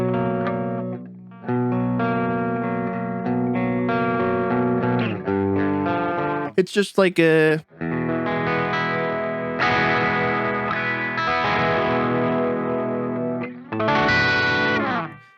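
Electric guitar played through an amp-simulator plugin with the gain set very low, giving clean, lightly effected chords and single notes with a brief scratchy strummed burst midway, steady and close throughout, with a few words spoken over it.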